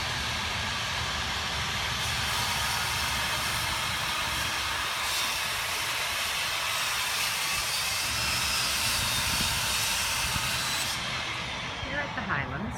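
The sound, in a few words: neighbor running a bandsaw in an apartment building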